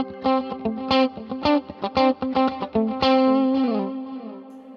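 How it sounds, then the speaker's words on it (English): An electric guitar through a Fractal unit moves from a swelling ambient pad patch into a clean tone, with notes plucked over lingering pad trails. It is loud and alone, with rhythmic chord stabs and a sustained wash fading at the end. "I was in the pad, I did a swell, and then I cut to my clean sound, and I could play over the trails"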